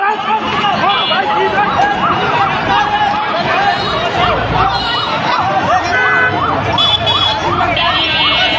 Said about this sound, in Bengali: এটা ফায়ার সার্ভিস না, অ্যাম্বুলেন্স